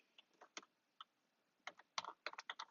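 Typing on a computer keyboard while entering a kubectl command, with quiet clusters of key clicks in short bursts and pauses, fairly close and alone with no talk.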